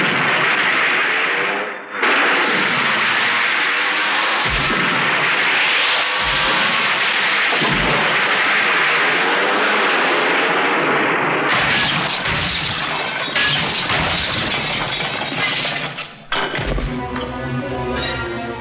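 Explosions and gunfire in a Bollywood film action scene, a loud, dense and continuous barrage with heavy booms and bursts layered over the score.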